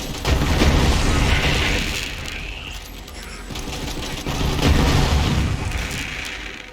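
The Lead Sprinkler assault rifle in Borderlands 3 fires continuously, giving rapid booming gunfire and explosive area-damage blasts in a loud, dense wash that swells and dips across the clip.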